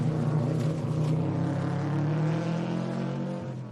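A Subaru WRX GC8 wagon rally car at a Queensland rally stage, its boxer engine droning loudly with a steady low throbbing note as it passes close by, fading slightly at the end, with no talk.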